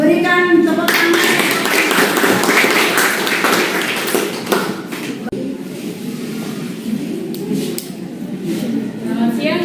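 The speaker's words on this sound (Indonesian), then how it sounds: "Baik, berikan tepuk tangan." Classroom applause after a group presentation, a broad wash of clapping hands that fades out partway through, with students chattering alongside.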